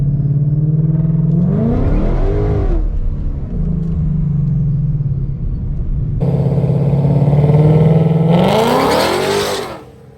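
A 2015-or-later Ford Mustang GT V8 makes a drag strip pass, its engine revving hard as it spins off the line, with rising shifts and a loud roar building close by.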